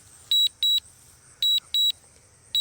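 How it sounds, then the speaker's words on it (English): A DJI Mavic Mini drone controller gives short, high electronic beeps, five in all, arriving mostly in quick pairs, loud and clear over a faint low hum. "It's only giving me one beep."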